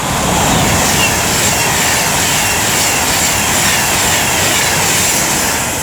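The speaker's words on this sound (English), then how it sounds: "now approaching will be a Pendolino working 1 Hotel 18 from London" A Pendolino train approaches at Rugeley Trent Valley on the West Coast Main Line, a loud, dense roar of rushing air and rail noise that stays steady and close throughout.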